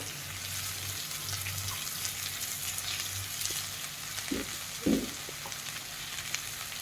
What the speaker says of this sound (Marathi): आता आपण ही भाजी टाकूया